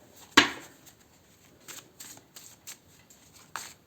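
An oracle card deck being shuffled: one sharp snap as a card flips out, then soft, scattered riffling taps and slides of cards.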